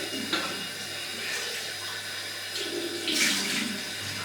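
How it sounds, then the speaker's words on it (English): Tap water runs steadily into a sink for a cold rinse after shaving, a soft continuous splash with a few brighter bursts as hands move through the stream. "Another cold water rinse"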